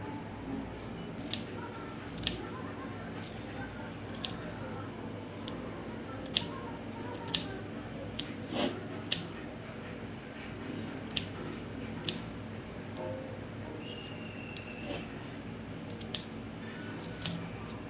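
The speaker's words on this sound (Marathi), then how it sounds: "आता आपण कांदा चिरून घेऊ" An onion is chopped on a board in a home kitchen: faint, sharp knife ticks at an irregular pace, roughly one a second, over a quiet background hum.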